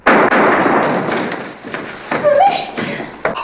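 A gunshot rings out in a western, a sharp, loud bang right at the start followed by echoing, crackling noise that slowly dies away.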